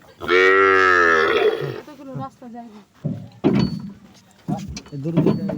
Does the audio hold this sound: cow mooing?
yes